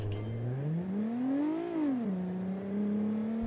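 A lone car engine in a video game hums, then revs up to a higher pitch at launch in low range and drops back, settling into a steady idle drone.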